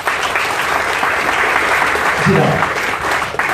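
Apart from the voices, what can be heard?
audience applause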